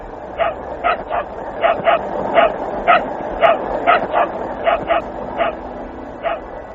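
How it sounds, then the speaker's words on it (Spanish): Laika the dog barks in a recording from inside Sputnik 2, a rapid run of about eighteen sharp yips in uneven pairs and singles over a steady hiss. "Es Laika ladrando desde algún lugar dentro del Sputnik 2."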